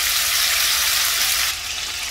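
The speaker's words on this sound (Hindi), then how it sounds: "पहले, टमाटर को भून लेंगे" Tomatoes frying with cumin in a pan give off a loud, dense, steady sizzle that eases a little near the end, with no talk.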